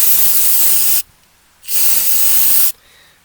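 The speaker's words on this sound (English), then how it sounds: "We'll spray through that." Aerosol cleaner sprayed into the carburetor of a Honda push mower, its float and needle removed, in two loud steady hissing bursts of about a second each, separated by a short pause.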